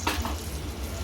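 Spiced marinated chicken with garam masala fries in a pot for handi chicken, a brief soft sizzle with a light stirring scrape, close and quiet, no talking.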